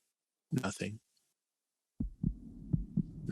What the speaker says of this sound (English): You can hear a heartbeat.